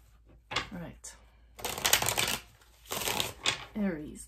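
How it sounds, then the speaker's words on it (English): Tarot cards shuffled by hand in quick riffling bursts, three main bursts close and crisp, separated by short pauses, with a person talking softly between them. "This is the shuffle coming up."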